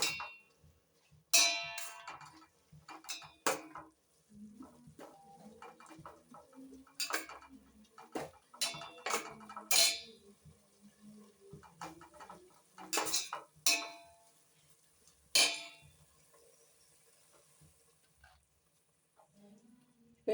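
A spoon scrapes and clinks against a pan in irregular bursts as food is stirred, with faint sizzling in between, close and fairly quiet.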